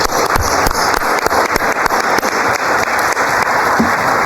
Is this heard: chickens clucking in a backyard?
no